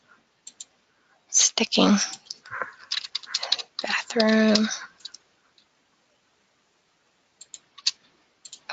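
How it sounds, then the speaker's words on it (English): Typing on a computer keyboard, heard as short bursts of light clicks that mix with a person speaking, then a few scattered taps after a quiet pause. "Sorry, I'm botching my typing."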